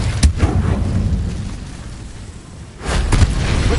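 Incendio fire spell cast in the game Hogwarts Legacy: a burst of fiery whooshing blasts at the start, a quieter roaring stretch, then a second loud flare near the end.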